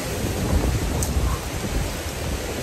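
Strong wind buffets the microphone on a beach along a coastal trail in southern Portugal, a loud, steady low roar with gusting swells that lasts throughout, with no voices.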